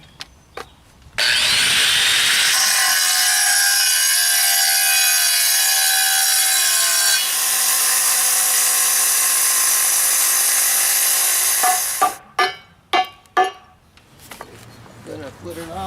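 A power saw slices about an inch off masonry stones for stone steps, a loud sustained grinding cut running roughly ten seconds, followed by several sharp knocks and scrapes as the stone is handled.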